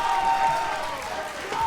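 Crowd applauding after a Tetris finals match at a classic Tetris championship, a dense wash of clapping and cheering from a large audience filling the whole moment, with a commentator talking over it.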